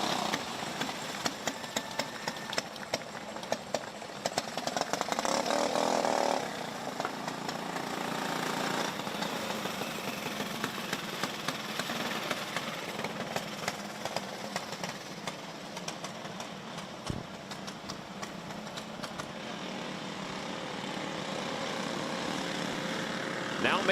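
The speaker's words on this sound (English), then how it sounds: "Now making their way onto the racetrack, our Junior 2 Wing Karts" Small Junior 2 Wing Karts rolling onto an oval at Forks Karting Speedway, a steady drone of several mid-pitched engines heard from a distance, rising and falling slightly as they circle.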